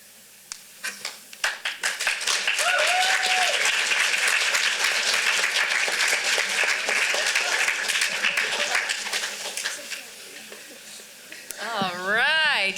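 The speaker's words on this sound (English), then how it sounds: "Let's give them another round of applause" A theater audience at a young playwrights' festival of cold readings bursts into applause that starts with scattered claps, swells to a loud, dense, sustained ovation, then tapers. Talk comes in at the very end.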